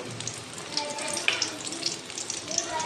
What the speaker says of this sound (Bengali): কড়াইয়ে তেল দিয়ে তারপরে হচ্ছে পুরগুলোকে এক একটা করে ছেড়ে ভাজা হচ্ছে।